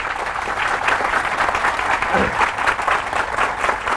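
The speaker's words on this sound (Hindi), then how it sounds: "इस बात पे जोरदार तालियां होनी चाहिए हमारे" Seminar audience applauding at a Forever Living Products event: sustained, dense clapping from many hands, fairly loud and steady with small swells throughout.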